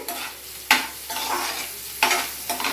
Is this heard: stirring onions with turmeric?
yes